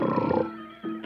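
A tiger roars in an old animated cartoon, a short, loud, growling burst that fades and then swells again briefly, close and alone without voices.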